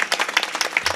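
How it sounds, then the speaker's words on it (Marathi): An audience seated at a Marathi kirtan claps in a brief, dense burst, a quick scatter of many hands heard close and fairly loud, with no talking over it. "त्यांच्यासाठी एकदा जोरात टाळी वाजवा."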